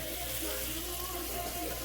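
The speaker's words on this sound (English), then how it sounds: "Then we just get little warm water. Put in the pan." Warm water poured into a cooking pan while making curry shrimp, a steady hissing, sizzling wash of sound that fills the whole short moment without a break.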